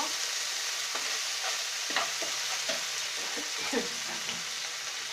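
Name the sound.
stirring ginger garlic paste frying in pan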